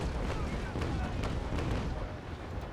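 Ship cannons firing in the naval battle game Naval Action, a dense sustained rumble of booming broadside shots close by, with a voice speaking over the barrage.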